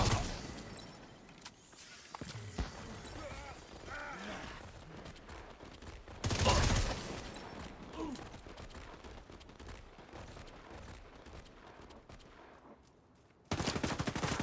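Bursts of video game gunfire crackle through a chaotic mix, with a loud volley around the middle and another sharp burst at the very end, over steady background game noise.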